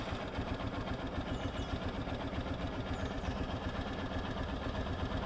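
A motorcycle engine idling on a Pulsar carburetor fitted in place of the original, a steady, even low rumble held at constant revs, close and continuous with no talk.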